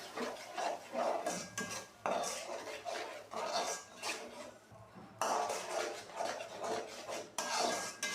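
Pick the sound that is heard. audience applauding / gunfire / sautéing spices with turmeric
sautéing spices with turmeric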